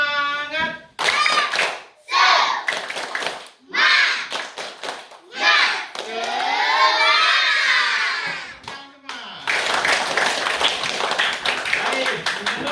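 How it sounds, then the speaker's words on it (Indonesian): Children in a combined-grade classroom do the rhythmic 'tepuk semangat' clap, bursts of patterned hand clapping and shouting alternating with loud group cheering, with an adult voice calling out between rounds. "Tepuk semangat."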